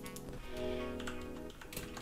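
Computer keyboard typing in a motion-graphics editing session, quick clustered key taps over a steady tonal music bed, fairly close and continuous with no talking.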